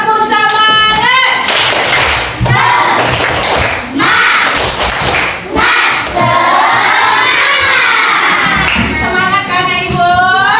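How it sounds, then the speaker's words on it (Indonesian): Schoolchildren in an elementary school classroom perform the tepuk semangat chant, with loud, close bursts of rhythmic hand claps mixed with shouting young voices throughout. "Boleh kita tepuk semangat sekali, bolehkah? Tepuk semangat."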